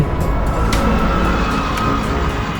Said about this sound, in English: We've got 2 buses that have passed by